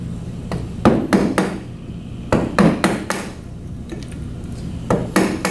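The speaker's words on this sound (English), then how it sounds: "it would take a lot more hammer strokes and it wouldn't be splitting along the grain necessarily" Mallet or hammer blows on cedar wood being carved and split along the grain, sharp close knocks in uneven clusters of two or three, alone with no talk.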